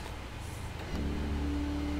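Engines in an Xfinity Series racing video game roar steadily, swelling partway through as a car accelerates into a louder, sustained drone.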